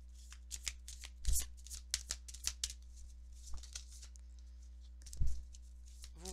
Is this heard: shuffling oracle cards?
yes